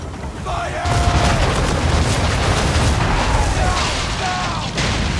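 Cannon fire in an Assassin's Creed naval battle, a heavy boom that rolls into sustained loud rumbling blast noise, with shouted voices heard over it.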